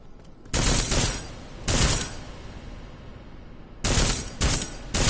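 Armor-piercing gunfire in Deus Ex: Mankind Divided, loud close bursts of rapid shots in separate clusters, with a quieter pause between the first pair and the final volley.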